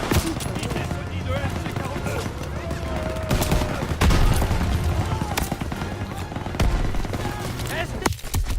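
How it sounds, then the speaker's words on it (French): Gunfire in Call of Duty WWII, dense bursts of rifle and machine-gun fire running continuously with booming impacts, loud and busy, with a player talking over the battle at times. "Tireur, visez Sonny de MJ42, côté droit. Feu!"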